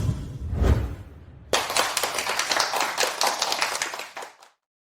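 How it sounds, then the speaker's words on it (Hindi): Audience applause welcoming a director onto a stage: a dense burst of clapping starts abruptly after a low rumble, stays steady and fairly loud for about three seconds, then tapers off and stops. "चलिए उन्हें तालियों से स्वागत करते हैं।"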